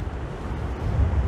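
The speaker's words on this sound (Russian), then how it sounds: "Но ветер. Очень холодно, надо капюшон надеть." Cold wind on the Baltic Sea coast buffets the microphone in a short burst of low, rumbling gusts that swell toward the end, with no voices.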